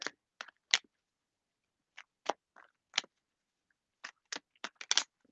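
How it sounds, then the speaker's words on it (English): Tarot cards being shuffled by hand: faint, crisp taps and slaps of the cards come in small irregular clusters with quiet gaps between them, close by. "Let me give the cards a really nice shuffle."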